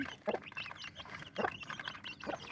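Chicks and hens gather under a basket and cluck faintly in three short bursts, spaced about a second apart, against quiet background noise.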